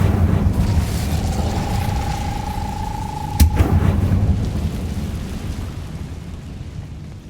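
The Incendio fire spell goes off in Hogwarts Legacy as a loud, dense rumbling whoosh with a sharp crack in the middle, followed by a sustained roar that slowly fades.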